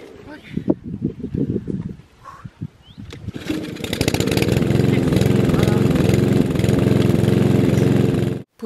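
A lawn mower in a castle garden cleared of sticks is pulled a few times with short sputters and a person talking, then catches and settles into a loud, steady running drone until it cuts off at the end.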